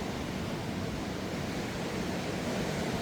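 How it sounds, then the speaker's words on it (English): Flood water rushes steadily near Dave's Falls in Amberg during a major washout, a dense, even roar with no breaks and no voices. "That water's rushing here."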